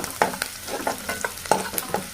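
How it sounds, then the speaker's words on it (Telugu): Onion, garlic, green chillies and curry leaves fry in a pan with a quick, rhythmic series of close stirring scrapes over a steady sizzle. "ఇప్పుడు పచ్చిమిర్చి, కరివేపాకు అవన్నీ వేసేసాం కదా, మంచిగా వాడుతున్నాయి"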